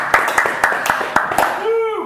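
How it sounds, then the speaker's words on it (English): Clapping erupts during a Warhammer 40k tabletop battle game, a few sharp hand claps in quick succession under a lively voice, ending with a sung exclamation. "Round of applause!"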